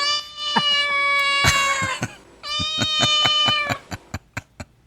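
A man imitates a cat, drawing out loud whiny meows, then pauses and ends with a series of short, sharp clicks.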